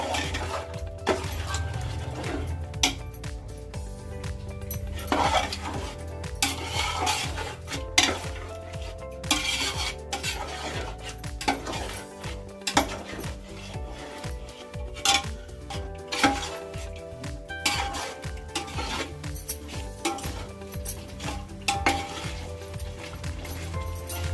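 A pot of chicken dum biryani on a stove is handled, with metal lid and utensil clanks and scraping recurring in irregular clusters. The clatter is close and fairly quiet, and no one speaks.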